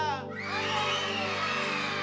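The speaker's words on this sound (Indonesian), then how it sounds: "coba kakak mau dengar teriakannya haleluya" A crowd of children shouts hallelujah together during an online kids' church service, a sustained, loud collective cheer with whoops, heard through a slightly processed, reverberant mix.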